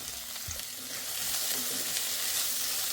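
Sliced onion frying in a pan, a soft continuous sizzle with faint scrapes and knocks as it is stirred, no talk.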